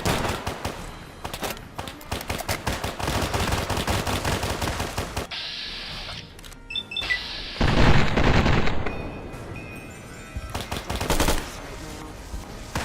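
Rapid, dense automatic fire from a rifle in the video game Fallout New Vegas rattles in long loud bursts, broken by a short pause and then more heavy shooting and booms.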